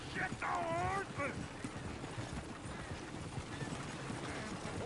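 Horse hooves clip-clop steadily in Red Dead Redemption II, a continuous near trotting rhythm that runs the whole length, with a voice talking over the first second or so.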